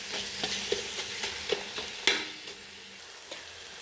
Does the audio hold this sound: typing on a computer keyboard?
no